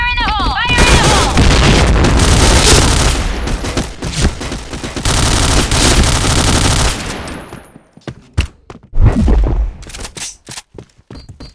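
In a shooter video game, a grenade blast booms amid dense rapid gunfire, heavy and close, followed by scattered shots and thumps, with a voice shouting under the din.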